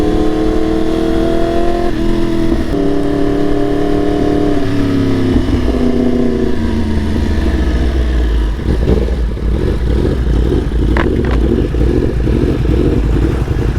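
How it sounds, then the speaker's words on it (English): A tuned Yamaha R1 Limited Edition motorcycle pulls hard in second gear, its engine note climbing in steady stepped tones, then settling into a rough, loud mechanical roar with wind rush. "I'm in second gear going 80k an hour and I'm not even close to even tickling redline."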